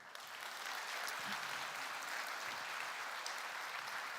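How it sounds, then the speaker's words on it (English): A large conference audience gives a sustained round of applause for an organizing team, an even, hissing roar of many hands clapping continuously, steady and fairly distant, with no voices over it. "I would like to ask for a loud round of applause for our wonderful GovTech Lab team"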